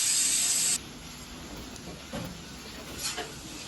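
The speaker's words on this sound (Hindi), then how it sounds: "और अब टिंडे डाल करके मैं इसको अच्छे से सौटे कर लूँगी" Tinda (apple gourd) dropped into a pan of fried onions, a loud bright sizzle for the first moment that settles into a softer steady frying hiss with a couple of small bursts.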